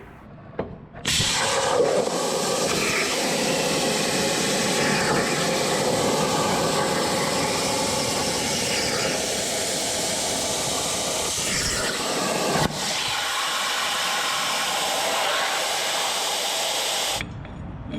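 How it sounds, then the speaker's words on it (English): A plasma table cuts a small metal bracket meant for a trailer hitch receiver. A loud, steady broadband hiss and roar runs for about sixteen seconds and then stops abruptly. No voices are heard. "I'm gonna be hopping on that plasma table, cutting out a little bracket"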